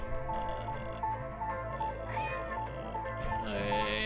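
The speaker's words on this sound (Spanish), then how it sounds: "Y el gato. Un gato." A cartoon cat meows in an animated film, with a few drawn-out, fairly clear mewing calls set against the film's background music and sound.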